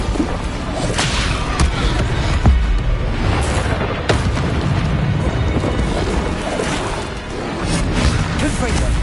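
Confringo spell blasts erupt in a Harry Potter video game, whipping explosive cracks and thuds scattered through a dense, noisy fight, with a voice talking over much of it.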